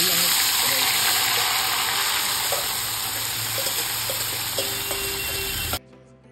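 Marinated chicken pieces fry in a pan at a dhaba-style home stove, a dense, steady sizzling hiss that holds evenly for several seconds and then cuts off abruptly.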